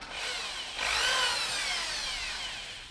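A power drill whirs in a short burst, close and loud, its motor pitch rising and then holding steady for about two seconds before easing off.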